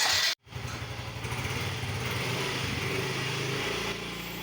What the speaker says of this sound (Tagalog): in-start ko na yung motor,